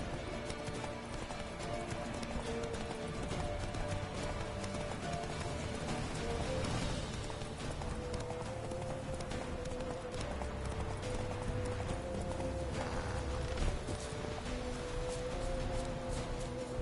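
Galloping horse hooves in The Witcher 3, a rapid, continuous clip-clop rhythm held steady and fairly close for the whole stretch, with no talk over it.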